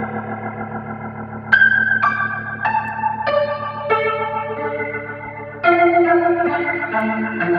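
Sustained piano chords from a Steinway grand played through a rotating Leslie speaker, with a swirling, shimmering chorus-like wobble; new chords strike every second or so and ring on clearly with no talking.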